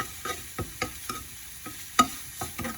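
Garlic and onion sautéing in a pan before ground beef goes in for lasagna: steady close sizzle under repeated scraping stirs, with one sharp utensil clack near the end and no talk.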